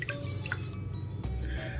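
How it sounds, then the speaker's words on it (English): Water sloshes and drips in a bowl as raw rice is swished around to rinse off starch, with soft liquid movements and small splashes close by. "you just turn it off and swish it around and just get rid of some of the starch"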